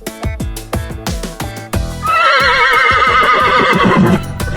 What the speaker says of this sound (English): Horse says neigh neigh.